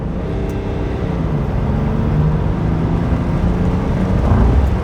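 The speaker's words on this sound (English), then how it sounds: "The turbo is like really huge, and it makes this great sound." BMW X5 turbo engine accelerating, a steady dense low rumble of engine and road noise building slightly toward the end, with no distinct turbo whistle standing out.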